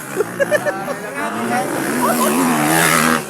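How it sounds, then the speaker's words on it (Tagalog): A motorcycle at a motocross race revs hard, with a few short throttle blips followed by a rising, sustained engine whine, mixed with crowd noise and an excited announcer talking over it. "Pagka-power, gitituyok ang motor."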